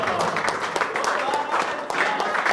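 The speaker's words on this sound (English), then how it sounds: "please give a huge round of applause for the live streaming people" Applause from the audience at the prize distribution of the Sreenidhi All India Snooker Open, a dense patter of clapping with some talk mixed in, moderately loud throughout.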